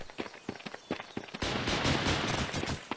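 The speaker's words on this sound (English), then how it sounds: "are these guys shooting at me? They sound like awfully close." Gunfire in a battle royale shooter game on iOS, starting with scattered sharp shots and then a dense, continuous burst of rapid fire at moderate distance.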